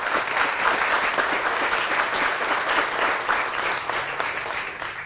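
A crowd at an outdoor city park groundbreaking ceremony claps steadily, dense, even applause that holds without a break for several seconds, with no voices standing out.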